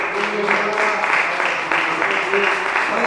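Congregation applauding in a church, dense continuous clapping from many hands, loud and close, sustained throughout with no pauses.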